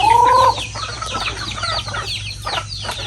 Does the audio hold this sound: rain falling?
no